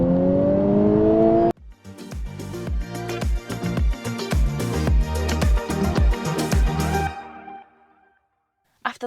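A Honda Civic Type R with a 2-litre turbocharged petrol engine accelerates hard, its revs climbing and then a loud, rapidly pulsing engine roar that carries close for several seconds before cutting off abruptly.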